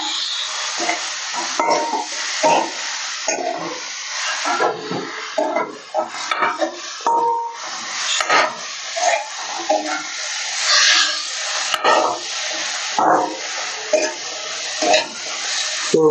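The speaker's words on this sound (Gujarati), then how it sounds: "હવે આપણે ઓલા ધોયેલા પૌવા નાખી દઈશું, નીતારીને કોરા પાડીને।" Washed, drained poha is stirred in a hot pan for Gujarati sev poha, with constant scraping and stirring strokes over a soft, steady sizzle.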